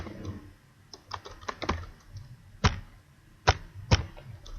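Keys clacking on a computer keyboard, a scattered run of light taps followed by three sharper, louder keystrokes spaced apart, close and alone with no voice.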